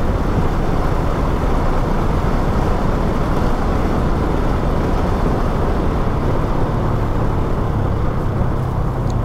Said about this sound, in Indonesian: Ini ada yang lewat mobil